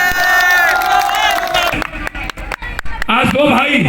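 A crowd at a political rally bursts into cheering and clapping, loud and close, as a voice over a loudspeaker fades and a burst of shouts rises at the end.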